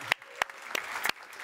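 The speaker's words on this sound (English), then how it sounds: "Yes, give an applause." An audience at the ESS/Max IV Summit 2023 welcomes a guest with a few sparse, scattered handclaps, fairly quiet, landing in a loose, uneven rhythm.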